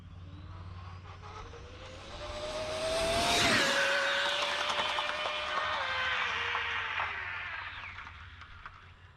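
A powerful RC car races past on a Florida highway with a loud, rising jet-like whine that peaks as it passes close and then trails off into the distance.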